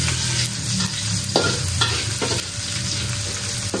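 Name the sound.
garlic, shallots and chili sautéing in a hot wok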